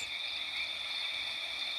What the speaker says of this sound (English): Do you hear the frogs